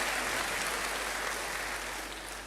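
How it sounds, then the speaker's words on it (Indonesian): A church congregation applauds during a service, a dense, continuous wash of many hands clapping that stays loud and even before easing slightly at the end, with no voices standing out. "Berikan tepuk tangan bagi Tuhan."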